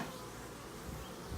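Honey bees swarm over an opened hive being worked for a honey harvest, their steady, faint buzzing drone filling the short stretch without pause and with no voices.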